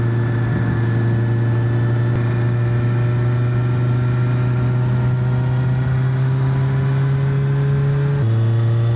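A second-hand Kawasaki Z1000 motorcycle engine drones steadily while riding, a loud, close, even hum with a slight rise in pitch before a brief shift near the end, with no talking.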